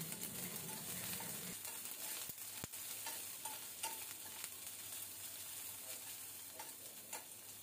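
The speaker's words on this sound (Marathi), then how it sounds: "आता कांदा थोडासा परतून झालेला आहे" Onion and vegetables being sautéed in a pan for corn Manchurian, a soft continuous sizzle with occasional spatula scrapes and two sharp taps against the pan, fairly quiet and without speech.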